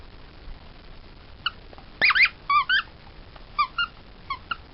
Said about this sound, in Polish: jeszcze ma piszczałkę w środku. To jest jeż właśnie z Trixie